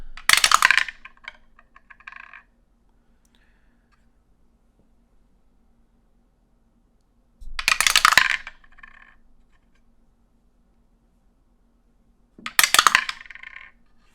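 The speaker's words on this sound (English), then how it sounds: "Astro dice." Astrology dice rattle and tumble onto a hard surface in three separate bursts, each a sharp clatter that settles quickly, with near silence between rolls.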